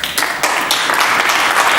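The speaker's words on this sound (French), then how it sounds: "Vous pouvez l'applaudir, vous pouvez l'applaudir." Studio audience applause on a French television game show hosted by Patrick Sébastien, a steady, loud burst of clapping heard alone.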